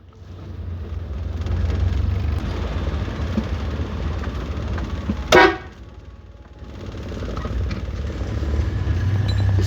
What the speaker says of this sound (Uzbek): Signal chalish kerakmi bularga men hayron qolaman-da.